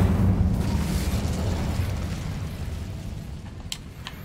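The Incendio fire spell goes off in Hogwarts Legacy as a rushing, roaring fiery burst that fades over a few seconds, followed by small faint clicks.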